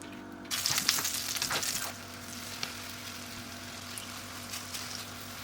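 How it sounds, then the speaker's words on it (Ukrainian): Zucchini slices coated in egg and flour hit hot oil in a pan with a burst of sizzling and spattering, then settle into a quieter, steady crackle with occasional pops. "переносимо все смажитись на пательню"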